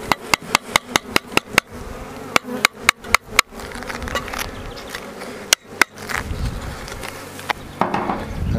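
Honeybees buzz steadily and close around a hive holding a newly captured swarm during a beekeeper's inspection, with a rapid series of sharp clicks and knocks from handling frames and hive parts over the continuous hum.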